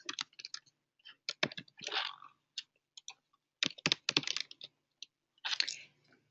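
Keys tapped on a computer keyboard while login credentials are entered into an online accounting account, coming in short quick bursts with pauses between, close and fairly quiet.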